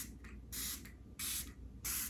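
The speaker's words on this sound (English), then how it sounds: "let's try this setting spray." Makeup setting spray misted in three short, close bursts, each a soft broadband hiss lasting about a third to half a second, separated by brief quiet gaps.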